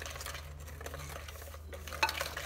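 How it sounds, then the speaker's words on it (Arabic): Cake batter being stirred in a bowl for an economical cake, a steady soft scraping and swishing close by with a brief clink of the utensil against the bowl near the end. "ونحرك مزيان"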